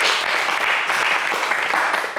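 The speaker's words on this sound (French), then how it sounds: "On applaudit Trésor, s'il vous plaît." Studio audience applause for contestant Trésor on a French TV game show, Le Coffre Magic: a short, loud, continuous burst of many hands clapping together.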